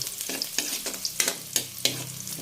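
Chicken pieces fry in a pan for pininyahang manok, with bursts of loud sizzling as the pieces are stirred and turned, five or six quick scraping pulses close by.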